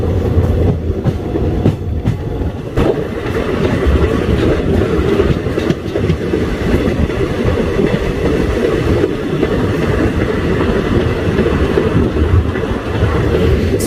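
A train rolls along the rails toward Deoband station, heard from the open doorway of a carriage: a continuous loud rumble with rhythmic clickety-clack of wheels over rail joints and occasional knocks.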